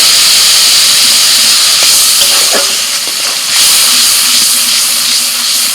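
Cardamom, cinnamon, cloves, tomato paste and ginger paste drop into hot oil left from frying potatoes and burst into a loud, close, continuous sizzle that dips briefly midway, then surges back.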